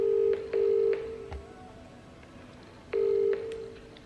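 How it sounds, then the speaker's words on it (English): A phone call is being dialed: two long, steady ringback tones and then a third, evenly spaced with quiet gaps between them, heard close and clear with no talking. "right now I'm going to phone my mum and tell her"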